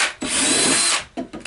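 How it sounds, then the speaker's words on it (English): A power drill whines steadily as it bores out and enlarges existing holes, running loud and close in one long burst, then stopping and restarting briefly. "drill some more holes in this, or at least make these holes bigger"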